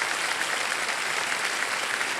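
Dense, steady applause from a studio audience on the Indian quiz show Kaun Banega Crorepati, season 17. The clapping is loud and continuous for the whole stretch and no voices can be heard over it.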